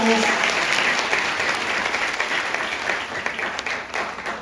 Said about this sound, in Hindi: जोरदार ताली होनी चाहिए सबके लिए